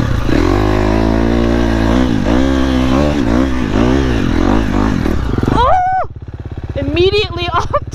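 Off-road dirt motorcycle riding near a lake, its engine droning loud and close with repeated revving surges, then dropping to a rough idle before climbing again in sharp throttle blips.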